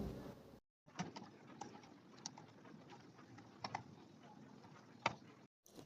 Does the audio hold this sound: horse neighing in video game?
no